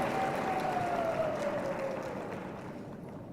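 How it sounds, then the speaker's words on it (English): Applause for graduates at a university graduation ceremony, with a large crowd clapping in a dense wash of sound that slowly fades. "A round of applause for our graduates."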